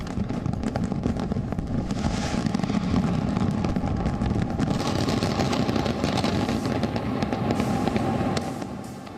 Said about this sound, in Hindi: 1 लाख से ज्यादा अलग अलग आतिशबाजी के इफेक्ट्स दिखाए गए